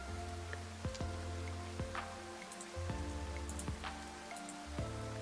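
Steady rain patters and drips on a surface, a continuous soft hiss broken by a few sharper drops, with a low hum underneath and no talking.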